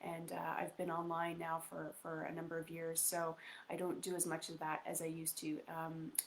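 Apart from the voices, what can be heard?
No everyday noises stand out.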